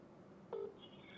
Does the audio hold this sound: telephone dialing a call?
yes